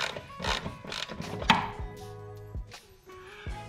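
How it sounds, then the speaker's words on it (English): A ratcheting auto wrench working on the engine crossmember bolts of a 1998 Subaru Impreza 2.5RS: close, fairly quiet, evenly spaced metallic clicks with one sharper clank partway through. "I'm gonna grab my auto wrench to make that much easier."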